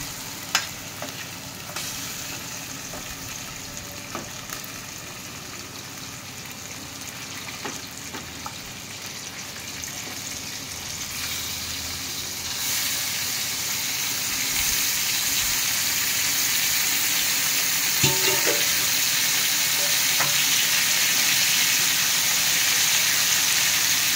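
Chicken pieces frying in a pan for curry, a steady close sizzle with scraping stir strokes throughout, growing a little louder and hissier in the second half, with no talk.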